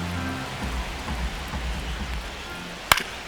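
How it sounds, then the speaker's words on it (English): Steady rain hisses across a baseball stadium in MLB The Show 25, a broad even wash of noise with low rumbling underneath and a single sharp click near the end. "This rain is not letting up."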